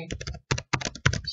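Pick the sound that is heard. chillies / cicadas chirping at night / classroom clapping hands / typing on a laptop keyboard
typing on a laptop keyboard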